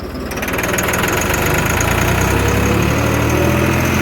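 A tractor engine idles steadily with a loud, close, droning rumble and a knocking vibration, starting up abruptly and holding an even level throughout with no talk.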